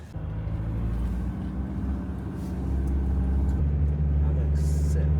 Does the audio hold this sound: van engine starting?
yes